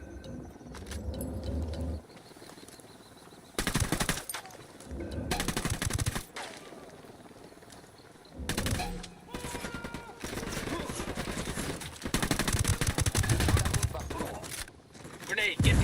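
Bursts of machine-gun fire in a video game campaign, arriving in several loud separate volleys between quieter stretches, with a near steady barrage toward the end.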